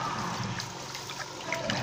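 Liquid pours steadily into a car wash soap mixture made with Natrosol, a soft continuous trickling and splashing with faint clinks, quiet and close, without talk.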